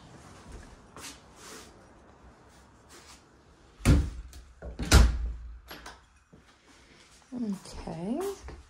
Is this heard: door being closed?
yes